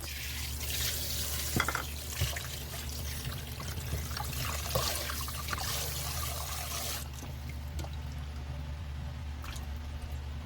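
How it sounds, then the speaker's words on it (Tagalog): Fresh milkfish (bangus) is rinsed under a running kitchen tap, a continuous close splashing and trickling of water with small handling sounds throughout, the flow easing slightly toward the end. "So kailangan natin siyang hugasan bago natin prituhin."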